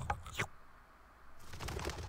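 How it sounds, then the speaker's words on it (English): A brief chirping bird call from the video game Samorost sounds at the start, followed by a quiet pause and then soft, busy game ambience. "Oh, it's a bird. I thought that was a mosquito."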